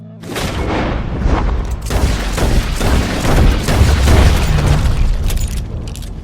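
Gunfire in Red Dead Redemption 2 rings out as a rapid series of loud, close shots and booming reports across several seconds, dense and forceful, with little else audible.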